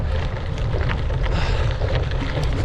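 Strong wind buffeting a rider on a gravel bike ride, a steady, loud roar of rushing air and microphone buffeting that fills the whole stretch without a break.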